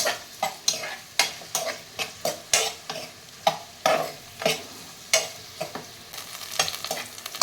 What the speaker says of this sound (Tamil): மூணு பச்சை மிளகா எண்ணெயில் போட்டு நல்லா வதக்கலாம்